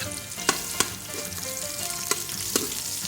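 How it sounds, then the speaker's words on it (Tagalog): Onion sautéing in a pan for beef kaldereta, a continuous close sizzle broken by several sharp utensil scrapes and taps against the pan. "pwede na tayong mag-start maggisa. Ilagay natin yung sibuyas"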